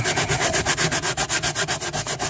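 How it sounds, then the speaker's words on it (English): Rhythmic back-and-forth rasp of a sanding block scraping across wood on a wooden boat, about a dozen even strokes in steady succession, close and fairly loud. "you use your sanding block to sand that down"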